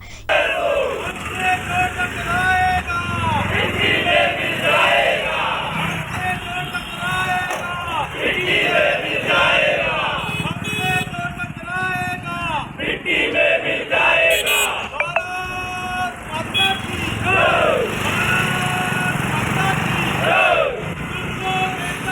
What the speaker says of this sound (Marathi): यावेळी जोरदार घोषणा देण्यात आला